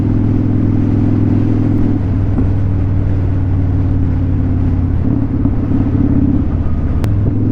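Steady wind buffeting over a motorcycle's windshield while riding, a loud continuous rumble and roar of engine and rushing air with a low harmonic drone, shifting slightly as the bike moves along.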